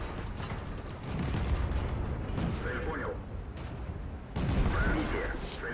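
Heavy tank guns boom in a video game battle featuring a tier 3 T 127 premium light tank, with two loud, broad blasts spaced a few seconds apart over a continuous rumbling backdrop of engine and battle noise.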